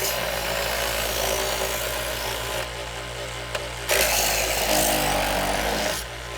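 A Chef's Choice Model 110 electric knife sharpener whirs continuously, with gritty grinding of a metal blade on an abrasive wheel, steady and close, the motor dipping briefly in pitch and level as pressure changes.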